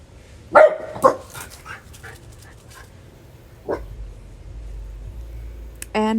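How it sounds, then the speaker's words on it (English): A small corgi barks at a passing car, two sharp close barks near the start followed by quieter scattered yips and a later single bark, over low background rumble in an indoor craft workspace. "my little corgi is barking at a car"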